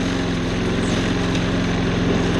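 A small-engine self-propelled walk-behind lawn mower runs steadily on its own, a close, constant buzzing drone with an even throbbing pulse and no pauses.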